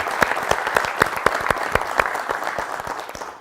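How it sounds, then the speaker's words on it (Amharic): An audience on stage at a televised music competition gives warm applause for a performer: a steady burst of many hands clapping, close and lively, fading slightly at the end. "ሞቅ ያለ ጭብጨባ ይደረጋል"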